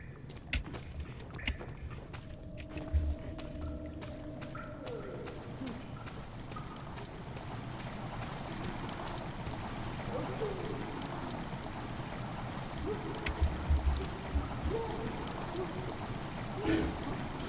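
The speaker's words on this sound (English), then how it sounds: "Water has begun to slowly fill the chamber." Water slowly filling a cistern chamber in the video game Amnesia: The Dark Descent, a faint steady trickling and rushing wash with a few soft knocks and thuds, no talk.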